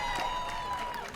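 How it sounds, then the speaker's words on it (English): A brief burst of crowd cheering and applause at a women's semi-final of the 2020 APTA Nationals paddle tennis tournament, a loud wash of clapping and voices lasting about a second. "Great exchange of the net, and the crowd erupts for Amy Shay"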